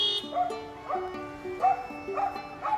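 A dog barks in a repeated, yelping rhythm of short high calls, several in quick succession, close and clear with no one speaking.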